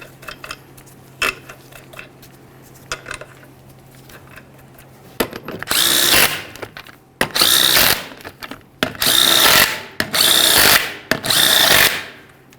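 Power tool spinning lug nuts onto the rear wheel of a 1999-2001 Ford Ranger, five loud close whirring bursts in quick succession after a few seconds of quiet clicks and handling noise.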